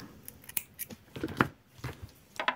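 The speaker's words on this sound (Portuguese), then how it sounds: "Eu vou cortar aqui o fio." Scissors snip through crochet yarn while a baby sneaker is being made, giving a series of short, crisp, close cuts in an irregular rhythm with no talking.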